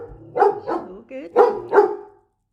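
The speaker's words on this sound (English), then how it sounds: "Excuse the dog's barking." A dog barks four times in quick pairs, close and fairly loud, with short gaps between the barks.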